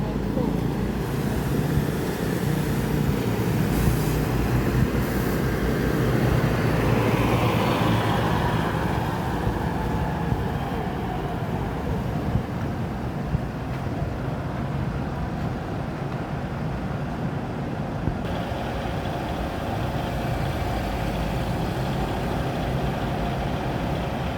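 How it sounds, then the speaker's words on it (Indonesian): An Al-Ijrah tronton truck with a Volvo 450 Euro 5 engine runs with a continuous low diesel rumble, loud and steady throughout. People talk over it at times. "Al-Ijrah tronton bermesin Volvo 450 AP Euro 5"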